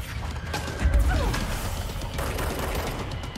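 Enemy gunfire in the video game Control, a burst of rapid shots and crashing impacts layered over a steady low game rumble, close and fairly loud.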